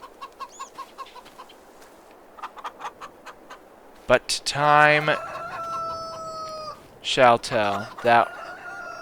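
Roosters in the video game Farming Simulator 2: A New Dawn crow loudly and cluck in repeated bursts, while someone talks over the barnyard noise.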